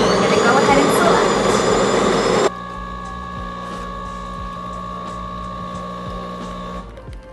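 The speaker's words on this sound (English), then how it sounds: "Let's go ahead and brew a espresso." A DeLonghi Dinamica Plus ECAM37095TI espresso machine brews espresso: a loud grinding-and-pump burst for about two seconds, then a steadier, quieter mechanical hum and drip that continues to the end.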